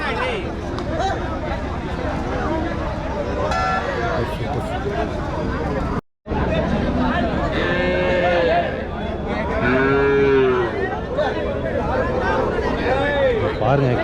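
Native heifers at a cattle market moo repeatedly, several long, loud calls rising over a busy background of crowd chatter and people talking, with a brief dropout midway.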